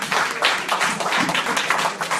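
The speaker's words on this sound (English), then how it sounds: "give everybody who spoke today a round of applause" A standing audience at a community elders' gathering gives a round of applause, with dense, continuous clapping from many hands throughout, close and fairly loud.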